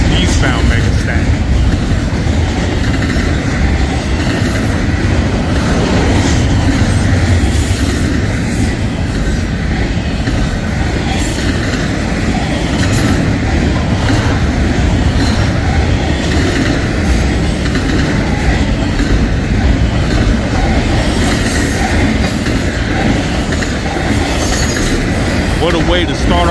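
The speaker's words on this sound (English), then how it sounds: "Westbound Megastack meeting, I believe, a 4 by 2 by 0 eastbound Megastack." Two double-stack BNSF and Union Pacific megastack freight trains meet and pass close by, a loud, continuous roar of rolling wheels with clickety-clack and some wheel squeal that fills the whole stretch.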